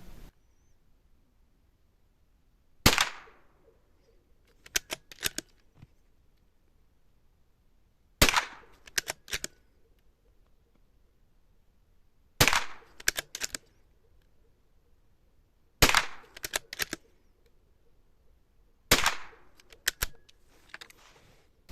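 A .22 LR rifle firing during an ammunition test, with six sharp cracks spaced a few seconds apart, each followed by a quick cluster of faint clicks. There is no talk over the quiet background.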